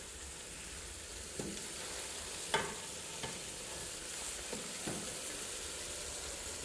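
Chopped onions and green chickpeas frying in a pan for a Kathiyawadi curry, stirred now and then: a faint steady sizzle broken by several light scrapes and taps of the spoon.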